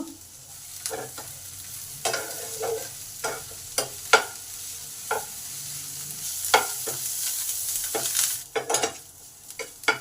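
Onions sizzle in a pan while a utensil stirs them, giving irregular scraping knocks over a continuous frying hiss.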